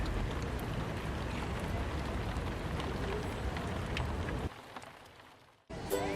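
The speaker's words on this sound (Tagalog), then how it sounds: "mas masarap magstay habang nakikinig sa patak ng ulan" Rain patters outside SM Baguio as a soft, continuous wash of noise that holds steady before dropping away near the end.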